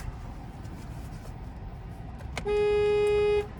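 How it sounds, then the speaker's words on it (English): A 2025 Chevy Trailblazer LS AWD sounds its horn once, a single steady, loud honk lasting about a second, heard from inside the car over a low road and cabin rumble. "There's the horn."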